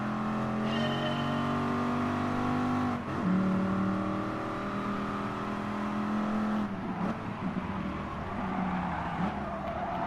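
A race car engine drones in Gran Turismo Sport, holding a steady tone, then dropping and rising again as it shifts and revs, moderately loud and without talk.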